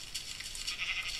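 Sheep in the video game Minecraft bleat in a short, fairly near burst of wavering cries against a quiet background.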